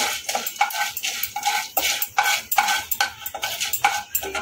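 Mustard seeds being stirred in a hot pan for semolina upma, giving a steady run of scraping, clinking utensil strokes against the metal with a quick repeating rhythm. The sound is close and moderately loud, and no voices are heard.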